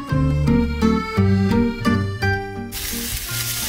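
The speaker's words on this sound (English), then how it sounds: "over medium heat, go ahead and put them in a pan with oil" Chopped onions and bell peppers hit hot oil in a pan over medium heat; a broad hiss of sizzling rises near the end beneath prominent background music.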